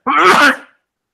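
A single loud, close sneeze, sharp and brief, followed by silence.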